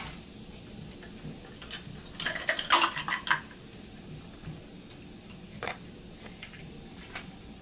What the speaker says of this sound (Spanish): Revuelvo aquí para que no se vaya a quemar el arroz